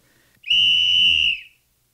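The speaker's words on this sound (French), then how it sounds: "au coup de sifflet de l'arbitre" A single sharp referee's whistle blast on an ice hockey rink, loud and close, holding steady for about a second before cutting off.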